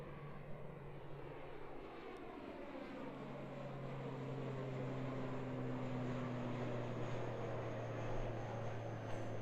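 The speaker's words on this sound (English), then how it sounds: "Another early rotation for the ATR here" An ATR turboprop airliner lands at Christchurch Airport, its propeller drone and engine roar holding steady and moderately distant, with a faint tonal whine sliding slowly over the rumble.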